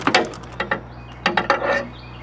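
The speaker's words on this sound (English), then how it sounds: "We're using a 10mm socket. We're gonna loosen this up." A 10mm socket ratchet loosening a car battery terminal, several quick clicking bursts in two short groups, close and moderately loud over a faint low hum, no talk.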